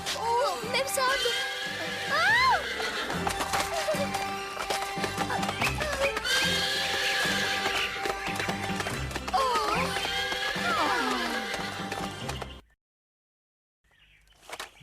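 A horse whinnies repeatedly in a Hindi-dubbed Cinderella cartoon episode, over busy background music and clopping hooves, loud and close, before everything cuts to near silence at the end.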